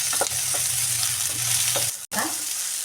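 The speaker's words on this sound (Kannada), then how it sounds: "ಸ್ವಲ್ಪ ಎಣ್ಣೆ ಹಾಕೊಂಡ್ಬಿಟ್ಟು ಈ ಥರ ಫ್ರೈ ಮಾಡ್ಕೊಳ್ಳೋಣ ಈ ಸ್ವಲ್ಪ ಟೊಮೊಟೊ ಮೆತ್ತಗಾಗಬೇಕು" Tomato frying in a little oil for fresh avarekalu masala sambar, a loud close continuous sizzle with occasional stirring knocks and a short break near the end.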